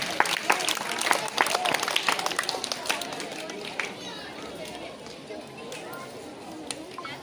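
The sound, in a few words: applause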